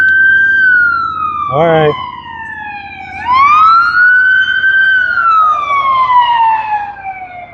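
An ambulance siren wails loudly as it passes through traffic, its pitch sweeping up and down, with a brief horn blast partway through and a voice speaking a word over it.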